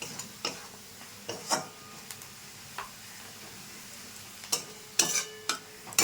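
Stirring cumin and red chili powder in a hot pan, the base for a sponge gourd and egg dish: faint scattered scraping taps and ticks over a low background hiss, with a few sharper clinks near the end.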